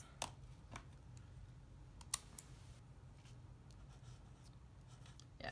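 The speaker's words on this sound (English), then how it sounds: "I want to show you how they write." Pens from a winter stationery surprise box scratch faintly across paper, with a few sharp clicks and taps standing out over a quiet room.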